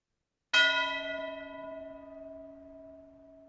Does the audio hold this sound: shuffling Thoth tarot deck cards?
no